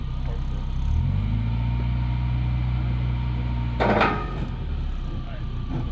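A car rolls slowly down a ramp off a trailer, a low mechanical hum with a rising whine, then a sharp clunk and rattle as it clears the edge, with quiet background noise afterward.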